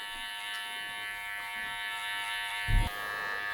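Electric hair clippers buzz steadily while fading a self-cut disconnected undercut at the barbershop, with a constant close electric hum and one brief thump near the end.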